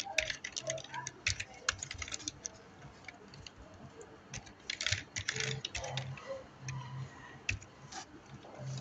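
Typing out a text message on a computer keyboard: fast bursts of crisp key clicks with brief pauses, fairly close, over a soft low hum.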